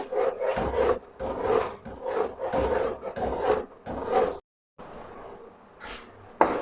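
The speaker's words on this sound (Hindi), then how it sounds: "वो भी इसके अंदर जाएंगे। थोड़ी देर भूनेंगे।" Spices and vegetable stalks frying and being stirred in a pan for aloo baingan, giving a steady close sizzle with repeated rhythmic scraping strokes, a brief pause, then more stirring.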